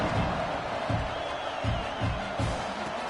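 A football stadium crowd cheers before kickoff at an FSU versus Oklahoma game, a loud sustained roar with rhythmic low thumps, likely clapping or stomping, repeating every half second or so.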